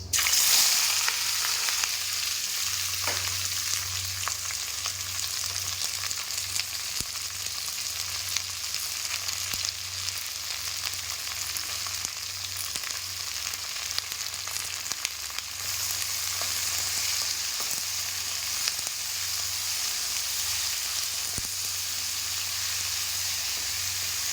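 Chopped capsicum and other vegetables fry for pasta with a steady, loud sizzle and hiss, holding constant with occasional stirring clicks and no talk.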